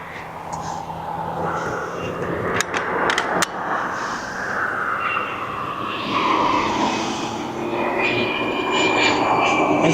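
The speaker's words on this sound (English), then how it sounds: "There's that little Cessna Citation." Small Cessna Citation business jet near East Midlands Airport, a broad, steady jet roar with a shifting whine that holds throughout and grows slightly louder, with a few clicks and background talk.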